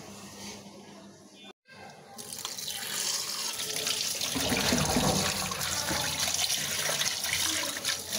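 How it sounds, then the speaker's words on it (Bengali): Fish being washed under a running tap, a steady rush of water that grows louder and fuller after a brief pause, with splashing and a voice speaking intermittently. "তো এই যে মাছগুলো সুন্দর করে পরিষ্কার করে ধুয়ে নেব"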